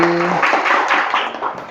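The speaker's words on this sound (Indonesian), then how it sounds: "Tepuk tangan lagi." Classroom applause after a student group presentation, a short brisk round of many hands clapping close by, following a brief tone.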